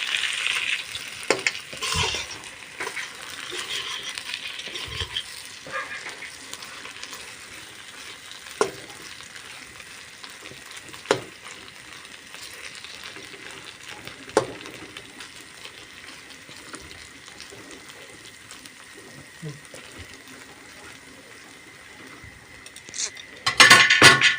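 A potato bhaji fries in a pan with a continuous sizzle over about twenty seconds, punctuated by sharp metallic clinks and scrapes of stirring. A loud clatter comes at the end, and someone talks intermittently underneath.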